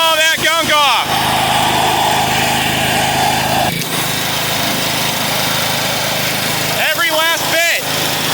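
Husqvarna lawn mower engine running steadily at a close, loud level, with a person's voice cutting in over it at the start and again near the end.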